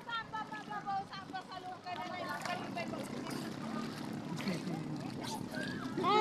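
A twin-engine boat runs on open water, a low engine drone and wind rush under chatty voices that dominate the first seconds, with faint water noise throughout.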